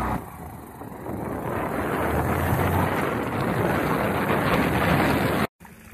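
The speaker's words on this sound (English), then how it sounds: "background noise on my little motorcycle here going down my lane" A small motorcycle rides down a country lane, its engine a low rumble nearly buried under constant loud wind buffeting the microphone, ending with a brief cutout.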